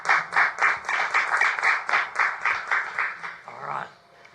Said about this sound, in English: So would you first of all give a round of applause?